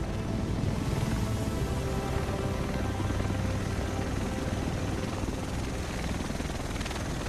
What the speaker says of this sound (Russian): Вот и вертолет.